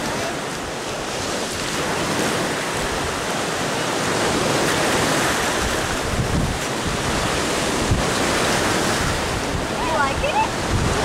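Ocean waves wash steadily onto a beach at Miller Beach, Indiana, a continuous rushing surf mixed with gusty wind buffeting the microphone, loud and close throughout.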